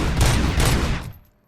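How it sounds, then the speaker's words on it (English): RoboCop: Rogue City gunfire: a loud, close burst of rapid shots in two quick bunches, cutting off into silence. "I can just shoot."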